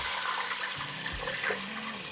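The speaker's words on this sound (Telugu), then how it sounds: "మసాలాస్ అన్నీ రోస్ట్ చేసుకున్న తర్వాత వాటర్ యాడ్ చేస్తున్నాను" Water rushes steadily into a pot of roasted masalas for mutton dum biryani, a continuous close gushing and splashing pour with no speech.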